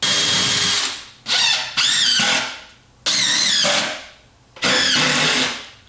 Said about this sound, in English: I'm using my impact drill to good measure.